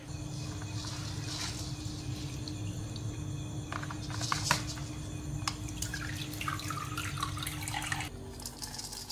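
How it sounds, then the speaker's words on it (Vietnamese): Soaked brown rice being rinsed under running water, with a steady tap stream and scattered drips and splashes in a sink over a low background hum, no voices. "mình rửa lại gạo."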